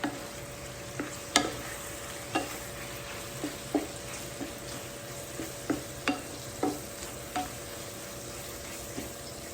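Sausage frying in added oil in a pan with garlic and black pepper, giving a soft steady sizzle broken by sharp ticks and scrapes from stirring at irregular intervals.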